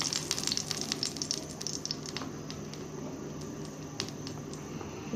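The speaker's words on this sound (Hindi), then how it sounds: "अब हम जो ऊपर वाला पार्ट है बन का, हम उन्हें सेक लेंगे थोड़ा सा घी डाल के" The top halves of burger buns toast in ghee on a hot pan, giving a steady close sizzle with scattered crackles and pops and no talking.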